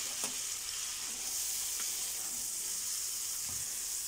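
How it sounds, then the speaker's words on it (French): Onion and leek frying in oil in a pan, giving a steady, soft, close sizzle with a few faint clicks and taps and no talk. "je vais faire revenir l'oignon"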